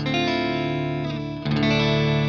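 Electric guitar chords run through a pedal board chain with an Artifakt unit, heavily layered with distortion, chorus and modulation, sustained and loud with a brief dip before a fresh strum swells back in, no talk.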